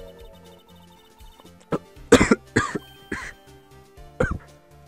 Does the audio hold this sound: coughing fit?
yes